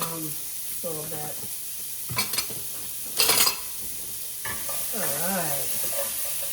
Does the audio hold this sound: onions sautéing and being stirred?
yes